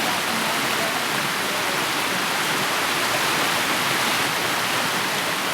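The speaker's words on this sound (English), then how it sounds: "I didn't know there was another waterfall." A waterfall on the West Prong of Hickey Fork gives a loud, constant roar of rushing water. The dense, even broadband wash holds steady with no pauses or voices.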